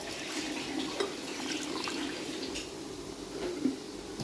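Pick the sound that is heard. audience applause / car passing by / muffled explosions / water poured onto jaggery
water poured onto jaggery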